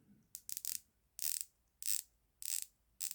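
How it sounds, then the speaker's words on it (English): A dive watch's rotating bezel is turned by hand, producing short bursts of crisp ratcheting clicks close up, about five separate turns with quiet gaps between them. "Bezel action."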